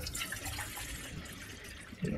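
Warm water pours into a pet's water bowl with a soft, continuous splashing trickle close by, ending in a brief heavier gurgle.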